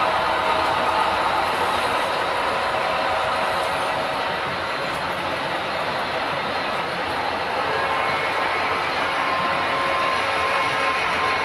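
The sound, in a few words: model railroad train starting up and running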